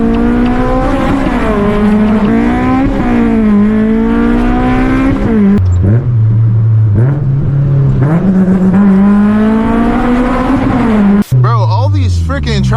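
A straight-piped Honda S2000 engine revs loudly and continuously while driving through city streets, its harsh exhaust note rising and falling through the gears with a brief drop between pulls.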